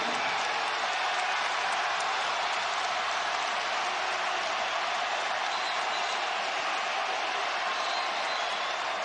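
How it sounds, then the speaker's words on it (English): Dense, steady roar of a basketball arena crowd cheering during an NCAA men's game between Texas Tech and Texas, a continuous wash of noise with no breaks, loud throughout with commentary faintly beneath. "This crowd has been exceptional all night long."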